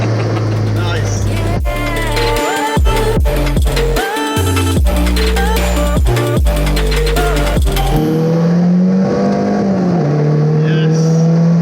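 Caterham 310R sports car engine revving hard through heel-and-toe downshifts, sharp blips and quick gear changes with stepped rising pitch, loud and close, settling to a steady drone at the end; voices talk over the engine.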